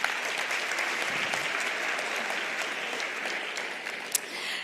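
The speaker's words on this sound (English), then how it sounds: "A round of applause for the President" Steady, sustained applause from an audience for President Cyril Ramaphosa at a BUSA economic indaba, a dense even wash of clapping with no voices over it.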